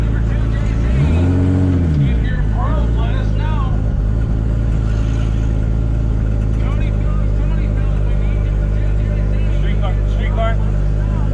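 A drag car at the Tx2K19 racing event revving loudly, a deep engine roar swelling early then holding a heavy drone, with people talking over it.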